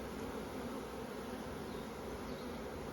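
A dense, continuous buzzing of many bees in a hive, steady and close, with no pauses and no voices.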